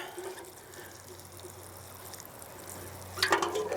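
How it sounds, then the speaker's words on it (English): Water poured from a can or jug onto a freshly repotted plant in compost, a steady soft trickle and splash throughout, with a brighter burst of splashing near the end. "And give it a nice drink of water."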